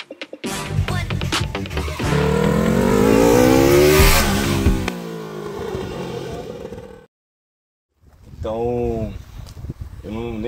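A race car on a track accelerates hard, the engine loud and close as it revs up through rising gear sweeps and then falls away. After a brief silence a voice talks over further engine noise.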